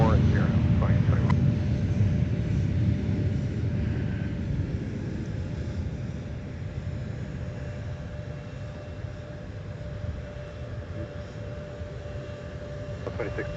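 An airliner begins its takeoff roll on runway 4 at MSP airport, a broad, rumbling engine roar that is loudest at the start and slowly fades as the aircraft moves away.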